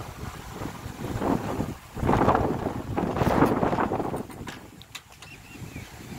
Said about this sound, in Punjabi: ਹਵਾ ਚੱਲ ਰਹੀ ਹੈ ਠੰਡੀ ਠੰਡੀ ਇਸ ਟਾਈਮ